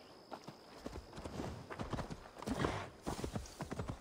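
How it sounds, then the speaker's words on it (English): A horse's hooves clop in a quick, uneven rhythm as it trots up in Assassin's Creed Valhalla, fairly close and moderately quiet, with a brief whinny-like sound early on. "Let's call the horse."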